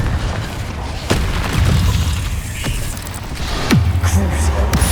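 A Confringo fire spell explodes in the video game Hogwarts Legacy, a loud, deep boom with bursting pops inside dense, continuous combat noise.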